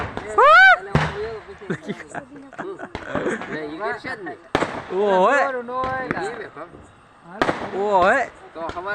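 Several sharp firecracker bangs burst out a few seconds apart during Diwali in a village, with excited voices shouting and chattering between the blasts.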